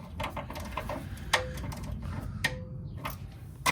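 Sharp ratcheting clicks and metallic taps come from a wrench torquing bolts to 53 inch-pounds on a 2024 Polaris RZR Turbo R Sport during a drive belt install. Several distinct clicks land at irregular intervals over a steady low background hum, close and moderately loud, with no talking.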